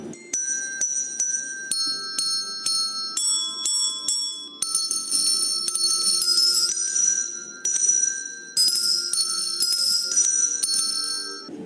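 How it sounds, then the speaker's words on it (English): Pair hand bells played by pre-school children ring out in a steady sequence of bright, sustained tones, one after another forming a simple tune, clear and close. "I learned to listen to the sound of the bells during music class. Our class can play the pair bells really well."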